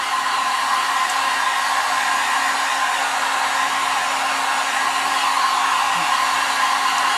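A heat tool blows steadily over freshly painted wood on a handpainted St. Patrick's Day door hanger, a loud, close, unbroken whooshing drone that holds the same pitch throughout with no voices.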